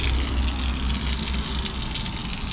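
Water runs steadily from a tap at a European truck parking area, a constant close gushing flow with no pauses.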